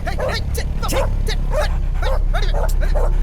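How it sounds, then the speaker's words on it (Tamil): Dogs bark at night in a quick run of about eight sharp yips and barks, close and fairly loud over a low background rumble. "நைட்டான அந்த நாய்ங்க தொல்லை."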